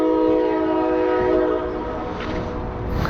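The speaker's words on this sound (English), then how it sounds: "That's not even a full train." A partial freight train passes on nearby tracks and sounds a loud, sustained horn over a steady rumble of rolling cars, close and continuous with no talking.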